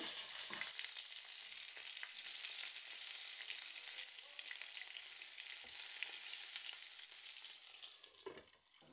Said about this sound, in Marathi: दोन ते 3 मिनिटात ह्या मिरच्या दुसऱ्या बाजूनेही मस्त अशा तेलात परतल्या गेलेल्या आहेत.